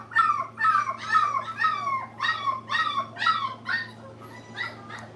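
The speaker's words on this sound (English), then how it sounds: "The puppies used to not make hardly any noises, and now they are, like, making all kinds of noises." Young puppies whimper, yip and howl in a rapid run of rising and falling cries, close by over a steady low background hum.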